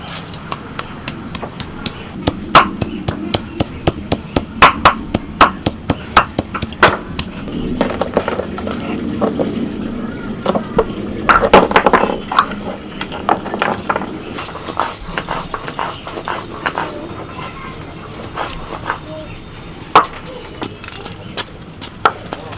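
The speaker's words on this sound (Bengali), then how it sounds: "আদাটা প্রথমে বেটে নিচ্ছি।" Ginger being ground on a traditional grinding stone, with repeated sharp knocking and scraping strokes in an uneven rhythm, close and fairly loud, with a voice heard faintly at times.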